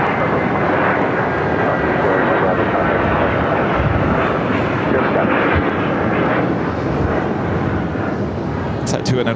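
A Frontier airliner on its takeoff roll from runway 7 left at Phoenix airport gives a loud, steady, broadband jet-engine roar that fills the whole span, with talk over it.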